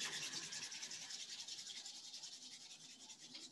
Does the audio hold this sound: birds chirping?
no